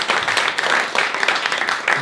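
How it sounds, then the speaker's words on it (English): A stand-up comedy open-mic audience claps loudly, dense energetic clapping sustained across the short stretch with slight surges. "just let me hear you clap real loud."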